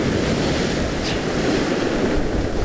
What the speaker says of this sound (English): the noise the shingle makes when it goes out has a sort of a roar to it